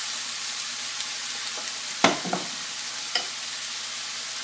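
Peppers hitting an oiled hot grill, a continuous close hiss of sizzling with a sharp crackling burst as they land and a few smaller pops and clanks after, no voices.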